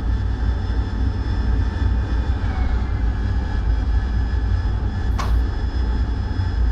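Steady roar of jet engines from an F-14 Tomcat and an S-3 Viking in the DCS flight simulator, a constant broadband drone with no breaks and a brief hiss burst partway through.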